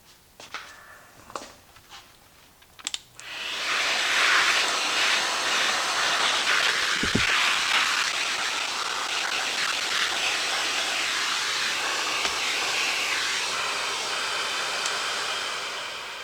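A vacuum sucks up spilled liquid left by a Roomba mess: a few faint knocks and clatters, then the motor starts and runs as a steady, loud, airy roar and hiss until the end.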